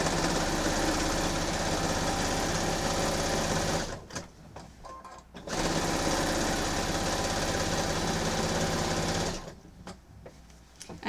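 Sewing machine basting along the edges of a quilt, running in two long steady bursts with a pause between, loud and close with a continuous mechanical whir.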